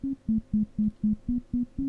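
A harsh, buzzy low modular synth tone with distortion pulses in eight even, rapid bursts, loud and dry with no voices.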